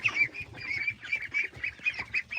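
Two-month-old ducks and chickens kept together call close by in a rapid run of nasal quacks and honks, repeating in an uneven rhythm with no talking.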